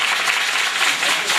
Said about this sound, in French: applaudissez encore le Seigneur Jésus de Nazareth